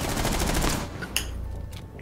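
Rapid automatic gunfire from a first-person shooter match, loud and dense for the first half then cutting off, leaving a few sharp clicks and faint shots; no speech.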